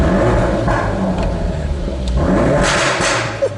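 A Ford Focus RS fitted with a Mountune exhaust revs loudly beneath a tunnel bridge, its engine note booming and echoing steadily throughout with rising surges near the end.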